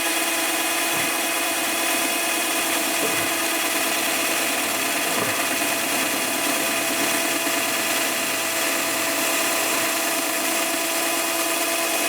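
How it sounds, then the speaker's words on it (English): A power drill boring holes in a pickup truck for a nerf bar bracket, a steady loud high whine running unbroken throughout, with a few faint low knocks beneath. "So I'm going to get this drilled"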